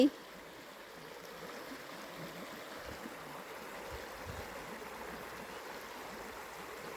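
River water flowing steadily at a crossing point in the countryside, a soft continuous rushing and trickling wash, fairly faint, with no voices.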